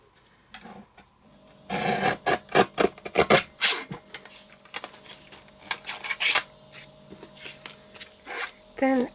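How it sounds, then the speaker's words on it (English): A paper guillotine cuts a sheet of card in half, giving a close run of rasping scrapes and sliding clicks in uneven bursts over a faint steady hum. "I'm just going to cut one of these in half from point to point on the guillotine."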